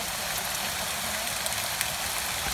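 Steady rain falling outdoors at a remote camp, a constant broadband hiss with a few faint patters, no voices.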